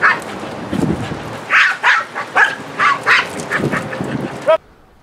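A dog barks defensively at a trainer in several sharp, loud, close barks spaced over a few seconds, with harsh honk-like tones, stopping abruptly.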